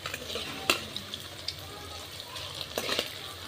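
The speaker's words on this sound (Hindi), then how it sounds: "पकोड़े भी फ्राई हो चुके हैं, अब हम पकोड़े निकाल लेते हैं।" Pakoras being lifted out of hot oil, with a soft background sizzle broken by a few clinks and scrapes of a utensil against the pan.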